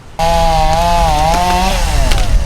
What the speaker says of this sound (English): the chainsaws are out cutting up trees that have fallen over